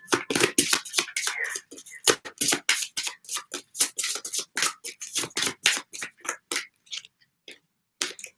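Tarot or oracle cards being shuffled by hand, a rapid series of crisp slaps and riffles in irregular bursts, close and loud, with short pauses and a brief quiet gap near the end.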